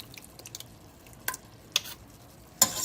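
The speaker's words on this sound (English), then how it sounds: "Now let's give that a good stir up." Spoon stirring chili with cocoa powder in a pot, giving faint scraping and a few sharp clinks against the pot over a quiet background.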